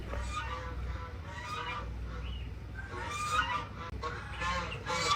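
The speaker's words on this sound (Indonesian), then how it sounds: "kok ada bebek?" Goose-like honking and fowl calls sound again and again over a steady low rumble, fairly close and prominent across the whole stretch, with a brief dropout near the end.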